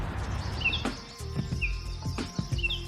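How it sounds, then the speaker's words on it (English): Several short, high bird chirps repeat over a steady rumble of street-like background noise, with a few low thumps and knocks scattered through. "You can hear birds singing."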